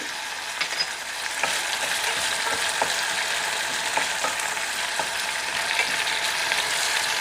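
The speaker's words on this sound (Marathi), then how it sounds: "मी आता साईडला थोडे तेलामध्ये जिरे घालते" Cumin seeds sizzle steadily in hot oil set to one side of a pan of tomatoes and rice, a loud continuous frying hiss with faint crackling pops throughout and no voices.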